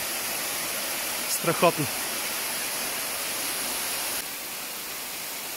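A small waterfall near Orehovo village roars as a steady, broadband rush of falling water. A person speaks briefly over it partway through, and the water continues alone afterwards.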